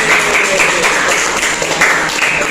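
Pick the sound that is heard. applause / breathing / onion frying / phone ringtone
applause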